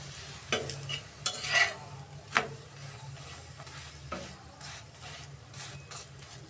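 An aloo paratha fries in oil with a quiet, close sizzle, broken by a few sharp scrapes and utensil knocks early on before settling into a faint steady frying hiss, with no talking.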